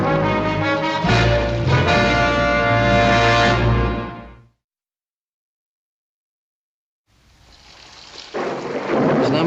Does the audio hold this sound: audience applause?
no